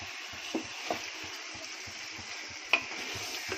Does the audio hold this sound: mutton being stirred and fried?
yes